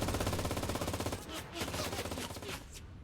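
An MG machine gun fires in the World War II shooter Enlisted, set in Normandy: rapid, sustained automatic bursts with a tight rhythmic rattle, fairly close but moderately quiet, the firing thinning out toward the end.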